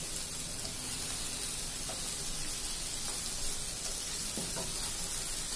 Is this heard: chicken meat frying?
yes